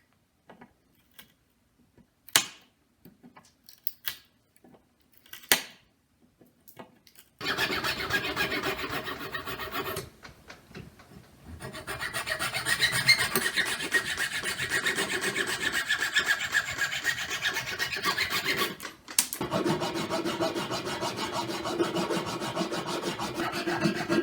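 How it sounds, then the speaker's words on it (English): Wood pegs and toothpick ends on a homemade double-headed spear being filed down: a few scattered light taps, then long stretches of steady, close rasping and rubbing that pauses briefly and resumes. "then I'm going to file everything down, including the wood pegs as well as the toothpicks"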